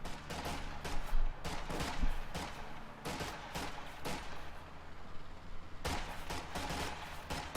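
Infantry gunfire in a Company of Heroes 2 battle, with rapid bursts of rifle and machine-gun fire cracking in clusters at a steady pace, mid-distance and fairly loud, with almost no talking.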